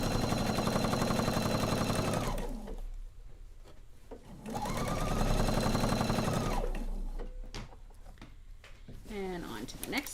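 Sewing machine stitching quilt pieces together, running in two rapid, steady mechanical bursts separated by pauses with light handling noise, and a brief voice near the end.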